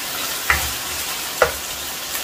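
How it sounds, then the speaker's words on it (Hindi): Ginger garlic paste fries with browned chicken for chow mein, a loud steady sizzle broken by two sharp scrapes of stirring. "अभी मैं इसमें शामिल करूंगा 1 टेबल स्पून अदरक लहसुन का पेस्ट। थोड़ा सा मिक्स करूंगा।"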